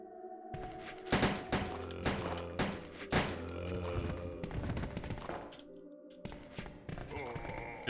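Gunshots from Resident Evil 2 on PS1, several loud, sharp shots in close succession echoing among game music and thuds, with someone speaking over part of it.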